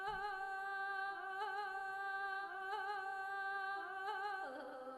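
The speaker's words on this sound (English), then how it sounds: "It's the Mongolian long song soloist, a legato." A sampled solo voice sings a Mongolian long song line from the Jade Ethnic Orchestra, a smooth legato held tone with gentle wavering vibrato and a pitch shift near the end, alone and fairly quiet.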